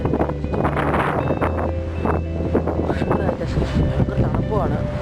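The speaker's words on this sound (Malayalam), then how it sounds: "ഭയങ്കര കാറ്റ്" Heavy wind blows in Fujairah, UAE, buffeting the microphone with a constant, loud rumbling roar for the whole stretch, while a voice is faintly audible beneath the gusts.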